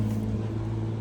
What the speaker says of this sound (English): There you go, dual exhaust V6.